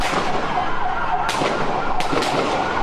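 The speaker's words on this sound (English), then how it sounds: "as at least 2 snipers fire on police from elevated positions" Snipers firing on police from elevated positions near El Centro College produce a few sharp, distant cracks of gunshots, spaced apart, over a constant wail of emergency sirens.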